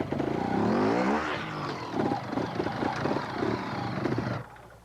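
A 1991 trials motorcycle engine revs hard during a riding-school demonstration, rising in pitch, then blipping in short repeated bursts before cutting back to a lower drone, loud and close with no talk.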